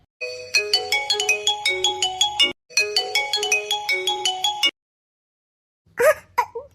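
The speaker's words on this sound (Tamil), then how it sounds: "ஜான் போன் அடிச்சா எடுக்க மாட்டேன்." A mobile phone ringtone plays a quick, bouncy electronic melody of repeated notes in two loud phrases, then stops, and a brief, different sound follows after a moment of silence.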